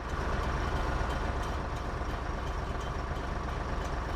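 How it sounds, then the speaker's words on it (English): A truck engine idles in the game SnowRunner with a rough, knocking piston noise, a dense steady low drone with faint periodic ticks, continuous and unbroken. "That's just the pistons destroying themselves."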